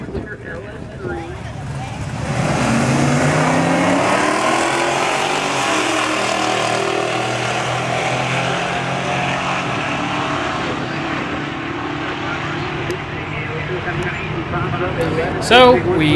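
A drag racing truck with a 6.2 liter LS3 engine roars past, a loud sustained engine drone that rises and then slowly fades while a voice talks over it.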